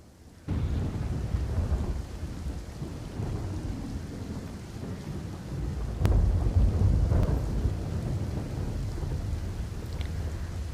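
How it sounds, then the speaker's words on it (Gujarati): Heavy rain pours steadily in Ahmedabad near the Civil Hospital area, with deep thunder rumbling in the distance and a sharper crack midway. The downpour is loud and continuous, with no voices. "સિવિલ હોસ્પિટલ વિસ્તાર છે ત્યાં વરસાદ વરસી રહ્યો છે"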